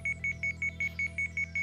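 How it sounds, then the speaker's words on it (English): A bracelet alarm in a video game rings in a steady series of short, evenly spaced electronic beeps, clear and alone over a low background hum. "the alarm on my bracelet suddenly began to ring"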